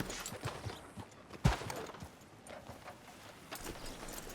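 Horse hooves clip-clop at a slow walking pace in the Red Dead Redemption 2 game world, a soft uneven rhythm of hoofbeats with one sharper knock partway through.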